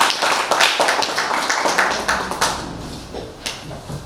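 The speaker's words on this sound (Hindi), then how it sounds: "एक बार जोरदार तालियां इनके लिए बजाएं" An audience claps at an evening poetry gathering, a scattered round of applause that is lively at first and thins out toward the end.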